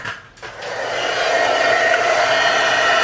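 A heat tool blows a steady, loud whoosh of hot air while copper embossing powder is melted, starting after a short clicking start and holding constant to the end with no talking.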